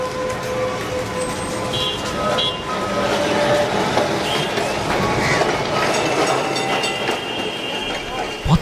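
A tram rolling along its rails through a city street, with steady rumbling and rail noise and faint squeals over the whole stretch, moderately loud and close, under traffic and street ambience.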